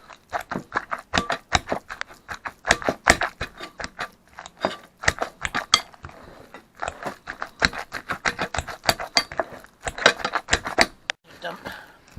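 Baked potato filling being mashed with sour cream and bacon grease in a bowl, a string of sharp irregular thumps and clacks from the masher, with a person talking briefly.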